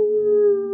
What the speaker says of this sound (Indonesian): suara lolongan anjing seperti itu ya, serigala